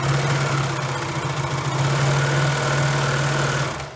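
A serger sewing machine running with its blade disengaged while stitching fabric, giving a steady, loud mechanical whir with a low hum that holds level throughout and has no talking.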